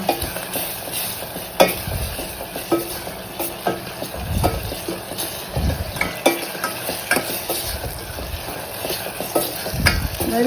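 Rasam cooking in a silver pot is stirred with a ladle, giving regular scraping and clinking strokes over a soft bubbling sizzle, close and steady throughout.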